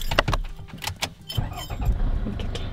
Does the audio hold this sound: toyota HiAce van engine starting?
yes